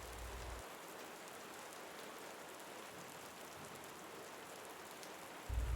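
Steady rain falls through a night in the desert, a dense, even hiss that stays constant from start to finish with no voices, briefly swelling with a low rumble at the very end.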